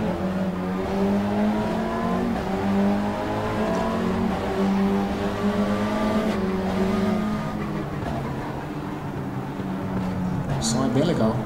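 Race car engine in Stock Car Extreme, a Mitsubishi among nine AI cars at Velo Città, revving with steady rising and falling harmonic tones that hold loud throughout, with a brief tire squeal near the end; voices mixed in.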